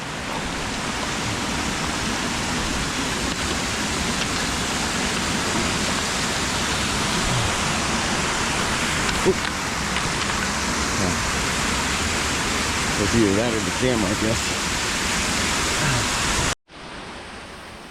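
A waterfall at Ancient Lakes in Washington State: a loud, unbroken rush of falling water close by, lasting throughout, with a brief spoken remark over it before it cuts off near the end.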